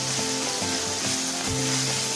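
Chutney ingredients sautéing in a hot pan, a loud continuous sizzle with a low crackling hum underneath and no voices.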